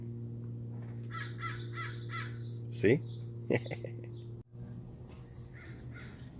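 A crow gives several loud, harsh caws in short repeated bursts nearby, over a steady low hum from a flat-top grill, with someone speaking briefly in between.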